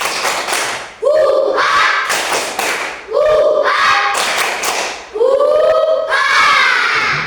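A grade 4 class performs the 'tepuk semangat' clapping cheer, with loud, rhythmic bursts of claps in repeating patterns mixed with children's chanting voices.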